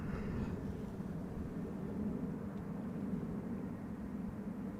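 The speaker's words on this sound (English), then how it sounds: "Air France A320 arriving from Paris Charles de Gaulle" An Air France Airbus A320 arriving at Amsterdam Schiphol from Paris Charles de Gaulle, a steady low jet roar and rumble heard from a distance, fairly faint and unchanging throughout.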